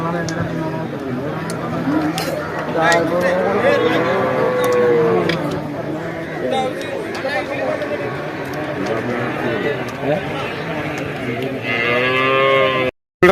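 Buffalo low and moo repeatedly amid a busy livestock market at Perumpilavu, Kerala, with many people talking and shouting around them.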